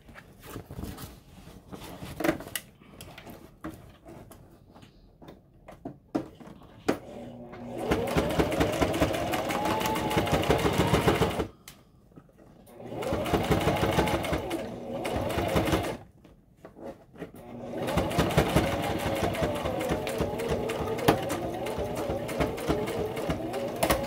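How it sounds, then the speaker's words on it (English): Sewing machine stitching along a previous seam line to close the bottom of a tote bag pocket, running in three long steady bursts with brief pauses between them, loud and close with no talk. "You want to sew along your previous line because that's the bottom of the pocket."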